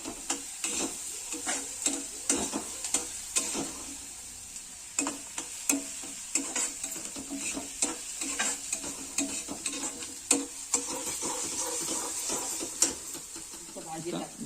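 Onion frying in a pan until golden, a constant sizzle with frequent scraping stirs and taps of a spatula, close and fairly quiet, with a voice speaking now and then.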